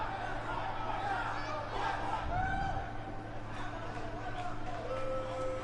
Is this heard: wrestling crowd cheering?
yes